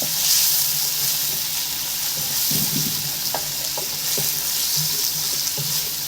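Onions fry in a pot for a slow-cooked aloo mutton gosht, hissing with a loud, continuous sizzle broken by occasional scraping stirs and clinks. No voices are heard.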